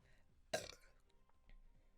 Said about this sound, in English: Cue the burping.